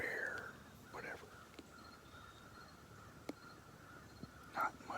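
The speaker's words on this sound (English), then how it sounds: "Not much gets past a crow without it gawking and squawking." A crow caws in the woods, a few hoarse calls at the start and near the end, faint and distant over soft rustling background noise.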